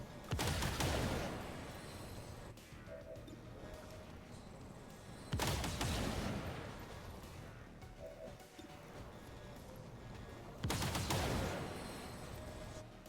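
Heavy gunfire from XCOM 2's Long War of the Chosen, three loud broadband bursts spaced several seconds apart, each fading into a rumbling tail, with dense battle noise filling the gaps.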